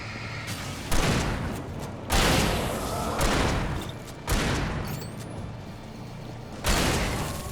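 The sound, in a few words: shotgun firing in video game Alan Wake Remastered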